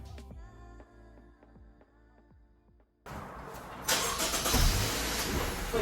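An FK5 car fitted with a ProDrager Hyperflow exhaust cranks and starts, a starter whirring in short rhythmic pulses before the engine catches and settles into a louder, rough mid-pitched idle close by.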